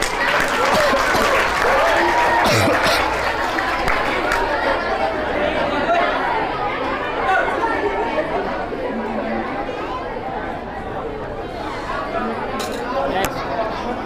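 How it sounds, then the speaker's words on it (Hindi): Loud, sustained applause at a victory ceremony honoring top exam results, mixed with crowd chatter and voices, the clapping rolling on continuously. "एक बार अर्पित भैया के लिए जोरदार तालियां इस बजाइए"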